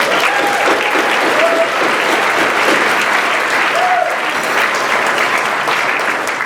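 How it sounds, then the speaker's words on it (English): Sustained applause from graduates and guests at a class of 2016 graduation dinner, a steady roar of many hands clapping indoors, with faint voices and a few whistles mixed in. "You should all give yourselves another round of applause,"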